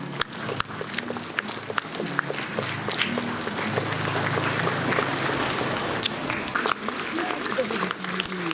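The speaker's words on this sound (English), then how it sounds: "Can we have a round of applause" Clapping builds from scattered sharp claps into a fuller round of applause from an audience at a Meghalaya Democratic Alliance government event, with voices murmuring underneath before it thins out again.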